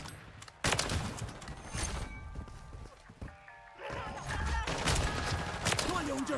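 Rapid bursts of gunfire in a Call of Duty match, sharp repeated shots in clusters with game sounds mixed in, under excited talking.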